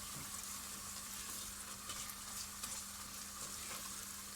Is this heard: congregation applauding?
no